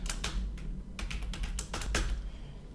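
Keys on a computer keyboard are typed while entering a password, a quick run of light, close clicks in small bursts with short pauses between.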